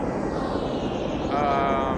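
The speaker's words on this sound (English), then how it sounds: "You can hear that helicopter somewhere." Distant helicopter rotor drone in the VR climbing game The Climb 2, a steady broad wash of engine and rotor noise throughout, slightly louder toward the end.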